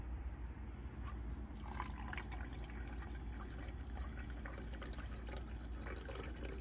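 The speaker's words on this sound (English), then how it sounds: "I'm going to take my 78 degree water and I'm going to add my 150 grams of this." Warm 78-degree water is poured into a container to feed a sourdough starter, giving a soft, steady trickle close up and quiet, with faint drips and no speech.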